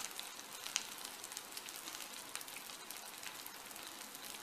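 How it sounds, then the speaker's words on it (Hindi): Chopped onions fry in a generous pour of oil for masala gobhi, giving a soft, steady sizzle with faint crackles and one brief pop, quiet and close with no voices. "हमने प्याज डाल रहे हैं और आपको तेल काफी थोड़ा ज्यादा डालना होगा"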